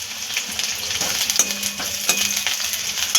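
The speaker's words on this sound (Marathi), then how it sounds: "त्यामध्ये आता हा कांदा जो चिरून घेतला होता उभा तो परतून घेऊया" Vertically sliced onion sautéing in reserved oil in a kadai for cabbage Manchurian gravy sizzles steadily up close, punctuated by scraping spatula strokes and light metal clinks, with no talking.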